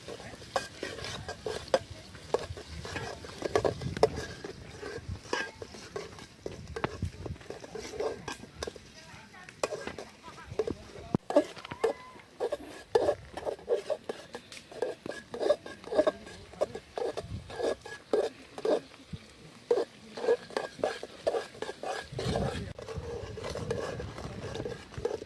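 Onions fry in a pan for a lamb curry, a soft sizzle running underneath as a spoon stirs and scrapes against the cookware in repeated clinks and knocks, with a voice occasionally heard.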